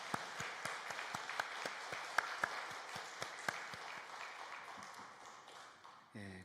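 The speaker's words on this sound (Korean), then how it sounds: "다시 한번 뜨거운 격려의 박수 해주시면 감사하겠습니다" Applause from a church congregation during a Sunday worship service, honoring the choir: a soft, distant patter of clapping with scattered sharper individual claps standing out, and a brief tonal sound at the very end.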